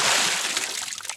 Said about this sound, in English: So I found a water splash sound